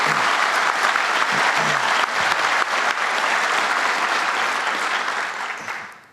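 Steady applause from an audience at a public event announcing a solar technology manufacturer for a business park, broad continuous clapping that holds for several seconds before tapering off at the end.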